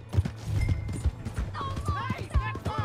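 Horse hooves clip-clopping at a gallop in the video game Red Dead Redemption, with a neigh amid game music and character dialogue.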